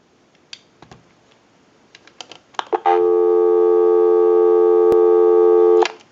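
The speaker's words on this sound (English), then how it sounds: "Go ahead and give you some dial tone." Steady dial tone from a Western Electric 2500 touch-tone desk telephone, preceded by a few handset clicks and handling knocks, then the continuous tone holding loud and clear for about three seconds before cutting off.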